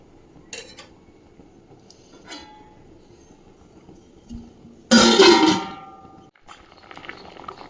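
A cooking pot of lentils with malabar spinach gets covered with its lid, a loud clattering metallic clank standing alone after a few lighter earlier clinks.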